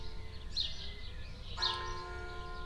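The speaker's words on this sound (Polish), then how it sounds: "oj, znowu dzwony biją, ciekawe dla kogo" Two distant church bell strikes about a second apart, each leaving a sustained ringing tone, faint over a quiet background.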